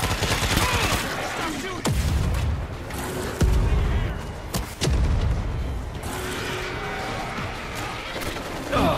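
Gunfire in the zombie shooter World War Z Aftermath: dense, loud bursts of shots rattle continuously, with sharp individual cracks punctuating the barrage and faint voices underneath.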